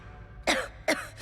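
Two sharp, close coughs from a cartoon pony in a French-dubbed episode, evenly spaced about half a second apart, each a short raspy burst over a quiet background.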